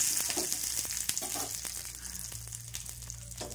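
Coconut and garlic cloves roasting in a little oil, a close continuous sizzle and crackle with occasional stirring scrapes, no voices.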